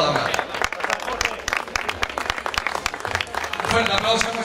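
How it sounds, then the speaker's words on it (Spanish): A crowd applauds at a 10 km road race at Grupo de Cultura Covadonga in Gijón, Asturias, with sharp, dense claps throughout and a voice speaking over them. "Fuerte aplauso"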